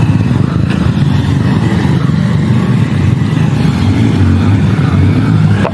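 Stunt motorcycle engine running loud and close during riders' practice, a continuous rough drone with slight rises in revs and no let-up, no voices.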